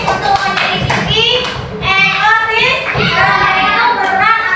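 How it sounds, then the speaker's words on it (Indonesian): Children clapping their hands together in an elementary school classroom, a dense, lively burst of applause that carries on steadily, with young voices chattering over it. "Kita tepuk tangan lagi buat anak-anak hebat."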